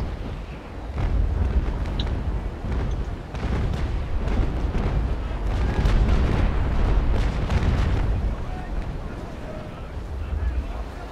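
Cannons fire from sailing warships in Naval Action, heavy booming blasts and rumbling that rise and fall over several seconds beneath voices talking.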